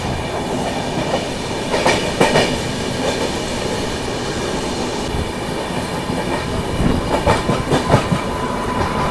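A train overtaking on a parallel track rumbles steadily alongside, heard from aboard the Tamilnadu Superfast Express, with rhythmic clickety-clack of wheels over rail joints and a broad rushing roar, no voices.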